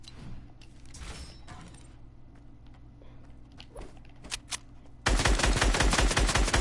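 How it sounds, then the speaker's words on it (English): Video game gunfire used to shoot down an enemy: a few faint creaks and mechanical clicks over quiet ambience, then a sudden loud, sustained burst of rapid automatic fire near the end. "You shoot him down."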